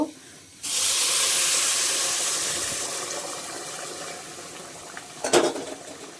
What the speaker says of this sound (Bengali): চালটা ভাজা ভাজা হয়ে গেছে এখন আমি এখানে পরিমাণ মতো পানি দিয়ে দিব